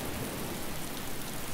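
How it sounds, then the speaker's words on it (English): Rain falls in the video game DayZ, a soft, even hiss that runs steadily through the short stretch, faint and with no voices. "I'm hearing rain. So that thunderstorm was definitely in the game,"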